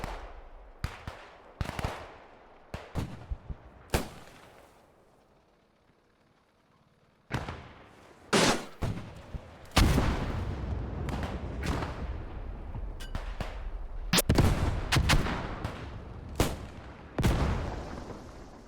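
Incoming mortar fire in the World War II video game Squad 44, a string of sharp blasts and heavy booms, some close and loud, others farther off, scattered irregularly over rumbling battle noise.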